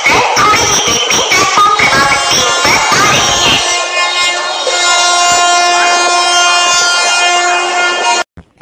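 A train passing on a railway, loud and close, with dense rattling clatter at first that settles into a steady sustained tonal hum and whine before cutting off abruptly near the end.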